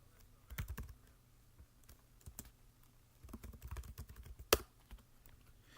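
Keystrokes on a computer keyboard as a terminal command is entered while troubleshooting an Android kiosk display, coming in short bursts of close taps with pauses and one louder key strike near the end.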